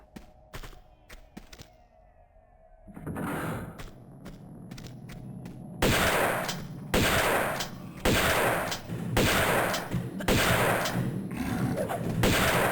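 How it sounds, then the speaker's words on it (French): Gunfire in the Tomb Raider II video game: a few sparse shots and game sounds at first, then a run of loud, evenly spaced booming shots from a rifle. "J'ai bien tiré à côté aussi."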